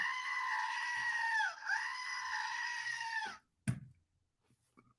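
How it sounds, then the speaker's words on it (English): A Wilhelm scream sound effect gives a long, loud, wavering wail with a brief dip midway, then breaks off sharply and is followed by a single thud. "Insert Willie scream."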